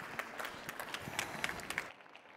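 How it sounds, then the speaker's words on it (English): Audience applause at an industrial additive manufacturing panel, a steady wash of clapping with a few sharper claps standing out, ending abruptly into near silence. "Big hand of applause, please."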